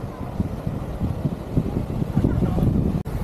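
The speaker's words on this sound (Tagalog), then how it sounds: "Ang lakas ng alon." Strong ocean waves surge and wash in continuously at Sai Wan Beach in Sai Kung, Hong Kong, a loud broadband roar heavily buffeted by wind noise on the microphone.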